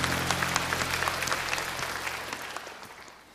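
Church congregation applauding in worship, a dense broadband wash of clapping that starts loud and gradually fades toward the end, with a low steady hum beneath.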